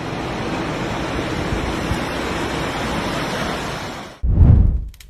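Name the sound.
ocean waves breaking on the shore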